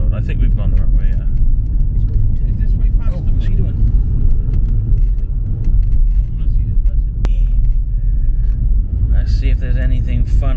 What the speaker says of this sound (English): Because we're just in a car.